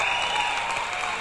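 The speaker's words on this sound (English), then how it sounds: "Please give a warm applause to big Johnathan Ivey." A television studio audience claps for a heavyweight boxing champion, producing a dense, even wash of applause that holds steady for just over a second.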